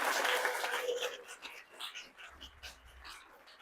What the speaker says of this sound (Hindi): गीत के लिए जोरदार तालियां।